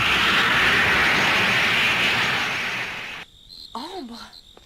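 A spaceship lifts off in an animated series, a loud sustained rushing roar filling the first three seconds before cutting away to quieter sounds with a brief voice.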